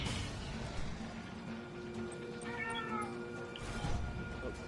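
A pet cat meows for food at feeding time, a few drawn-out, rising cries set against steady room noise and a faint background hum.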